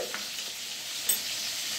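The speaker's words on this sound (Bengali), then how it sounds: "পটলটা যতক্ষণে ভাজা হচ্ছে" Pieces of pointed gourd (potol) fry in a pan with a steady, close hiss of sizzling oil and a faint stirring tap partway through, with no voices.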